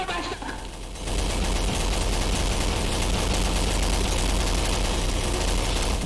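Dense, sustained gunfire from Garry's Mod Zombie Survival, with loud machine guns blasting continuously after about a second of quieter lead-in, the shots running together into a steady roar.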